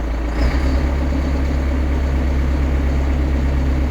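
A Massey Ferguson MF 6713 tractor's 132-horsepower engine idles low and steady throughout, a deep rumble holding constant with a brief rise near the start before settling back.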